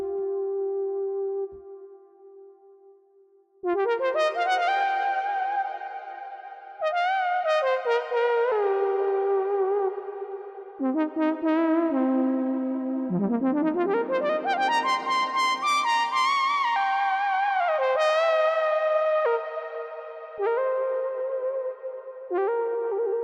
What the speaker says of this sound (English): The first juice would be reverb, and then also delay.